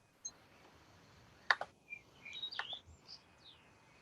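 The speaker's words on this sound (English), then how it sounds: "The birds are loud tonight." Faint, scattered bird chirps and short tweets sound over a quiet nighttime background hiss in a vineyard. A few calls come close together, then the sound thins out.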